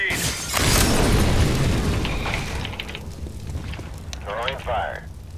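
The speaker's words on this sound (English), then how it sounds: "Throwing a grenade." A grenade explodes in the video game CS:GO, opening with a loud booming blast that rumbles for a couple of seconds and then fades into game noise and short sounds.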